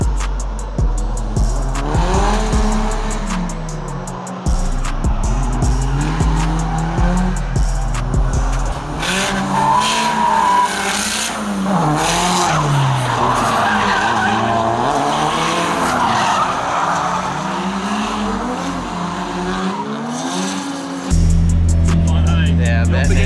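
A car drifts around a private raceway, engine screaming through rising and falling revs while tires squeal and skid continuously, loud and close, with people talking over it.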